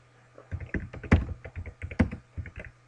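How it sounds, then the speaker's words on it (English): Typing on a computer keyboard at a desk while coding a Unity C# GUI: a brisk run of distinct close key clicks over about two and a half seconds, with a couple of heavier thumps mixed in and a faint steady hum underneath. "now I'm going to type something"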